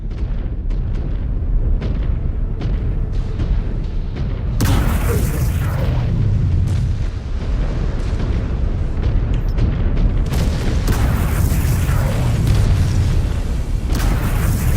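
Booming mech explosion in MechWarrior 5: Clans as an enemy mech is destroyed, loud sustained blast bursts over rumbling battle noise, with a second surge of heavy explosion later.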